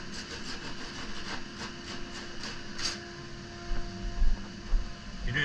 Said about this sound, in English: So that basically sands that down.